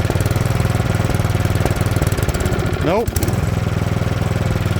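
A Craftsman snowblower engine runs steadily close by, a loud rattling throb with a brief rise and dip in pitch midway as the choke is adjusted, while someone speaks a short word over it.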